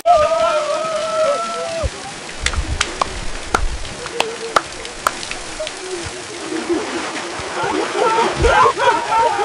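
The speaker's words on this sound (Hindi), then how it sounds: "गाइस, बहुत तेज बारिश हो रही है।" Heavy rain pours down in a village, a dense continuous wash of splashing and patter that builds toward the end, with scattered sharper drips and other tonal sounds layered in.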